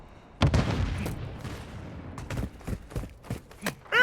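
Explosions and gunfire in the Call of Duty Modern Warfare 2 video game, a thudding blast followed by a rapid scatter of sharp shots and bangs, ending in a louder burst.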